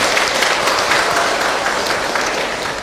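Audience at an Islamic lecture breaks into sustained applause, a dense, steady wash of many hands clapping that fills the room for the whole stretch, fading only slightly toward the end with no voice over it.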